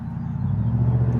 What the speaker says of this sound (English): There's a truck went by.